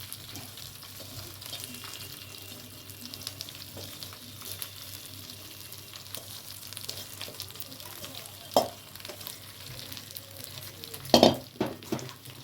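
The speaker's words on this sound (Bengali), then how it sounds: "এবারে চালটা দিয়ে এটা আমি ভাজবো" Soaked, washed rice fries in ghee in a pan with a soft, steady sizzle and light stirring scrapes, then a few louder clanks of the utensil against the pan near the end.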